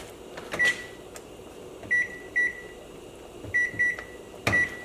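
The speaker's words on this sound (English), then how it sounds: "We're going to set our timer for 45 minutes." A kitchen timer being set gives several short, high electronic beeps in an irregular pattern, some in quick pairs, over a quiet room with faint handling noise.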